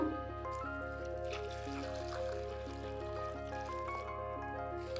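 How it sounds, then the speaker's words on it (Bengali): Water is poured over puffed rice in a mixing bowl, a soft steady pouring and trickling heard throughout, partly under background music. "এবারে মুড়িটাকে জল দিয়ে ভিজিয়ে রাখবো"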